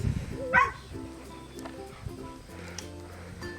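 Dalmatian puppies give a single sharp yip early on, followed by faint scuffling and soft murmurs of people nearby.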